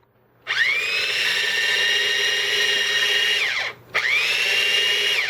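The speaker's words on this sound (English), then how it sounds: "But I'm going to grind those up a bit." Kitchen grinder pulverizing Italian breadcrumbs, a loud whirring motor that spins up, runs steadily for about three seconds, cuts out briefly, then whines back up again.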